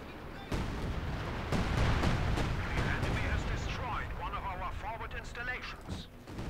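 An artillery barrage lands all at once in a 4v4 Company of Heroes 2 match on the Red Ball Express map, with a sudden heavy boom followed by rolling blasts and rumble as a commentator talks over it.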